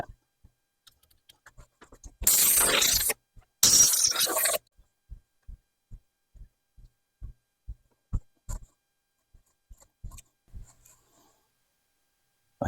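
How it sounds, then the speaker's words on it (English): Hand tapping threads into a blind hole in metal: two short bursts of rough scraping, then a long series of soft, evenly spaced clicks and light knocks as the tap turns and backs out, close and quiet with no talking. "I am just going to hand tap this hole since it's a blind hole"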